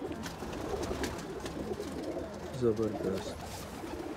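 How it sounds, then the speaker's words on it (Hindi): Pigeons, teddy jhordy birds kept in Lahore, Pakistan, coo softly in a brief low burble amid outdoor background noise while someone talks. "और ये प्योरिटी में कबूतर है"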